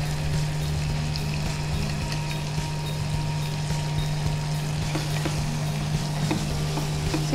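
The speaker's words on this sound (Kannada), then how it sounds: "ಇದು ಪೂರ್ತಿ ಫ್ರೈ ಆಗೋ ಅಂದರೆ ಬೇಯೋವರೆಗೂ ಫ್ರೈ ಮಾಡ್ಕೊಳ್ಬೇಕಾ ಹೇಗೆ?" Prawns frying in a pan with turmeric and biryani masala, giving a steady close sizzle with faint stirring clicks, no voices over it.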